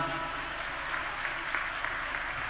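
Audience applause at a public religious gathering, a dense, steady wash of many hands clapping throughout, loud and continuous with no pauses.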